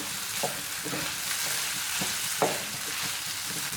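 Chicken fries in oil on a tawa with a steady, fairly quiet sizzle and occasional scraping taps of a utensil turning the pieces.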